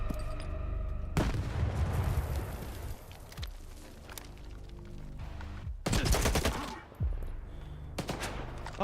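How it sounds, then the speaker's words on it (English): A grenade blast in a first-person shooter game, with loud bursts of booming gunfire and detonations across a chaotic firefight, several sharp broadband hits standing out. "That is a nade."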